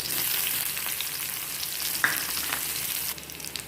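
Garlic and green chili frying in hot oil for vegetable momo stuffing, giving a steady close sizzle with a single sharp clink midway and a slight drop in intensity near the end.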